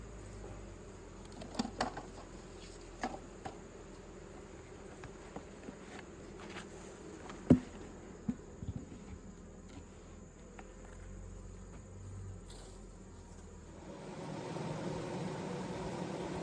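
A steady, low buzz of honey bees at a hive drones throughout with scattered faint clicks, rising slightly louder near the end.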